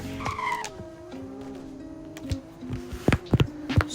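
Nissan Skyline R32 in the Roblox game Greenville launching for a 0-60 run: rising engine tone climbing through gear changes, with tire squeal and skidding bursts near the end, loud and close.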